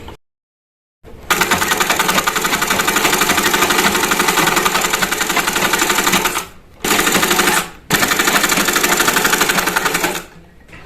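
An electric sewing machine stitches a designer three-piece garment in rapid, loud, steady runs, starting after a second of silence and breaking off briefly twice before stopping near the end.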